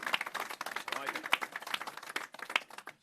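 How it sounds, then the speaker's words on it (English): Audience applause at a mayoral announcement of affordable housing in a 266-unit building, a dense patter of many hands clapping in a room, with voices mixed in under the claps. "You can clap for that"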